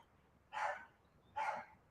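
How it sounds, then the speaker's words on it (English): Two distant dog barks, evenly spaced about a second apart, each short and moderately loud against a quiet background. "those silly dogs are at it again"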